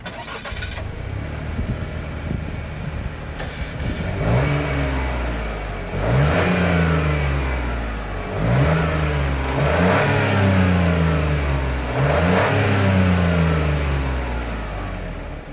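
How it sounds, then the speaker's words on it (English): A 2026 Chevrolet Trailblazer engine revs repeatedly through its exhaust, about five sharp throttle blips rising and falling over a steady idle, loud and close. "As always, here is that exhaust clip."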